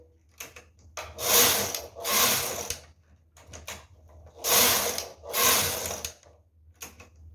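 A Silver Reed knitting machine works tuck-pattern rows, its carriage rasping across the needle bed in four loud, broad passes with clicking mechanical ticks in the short pauses between strokes.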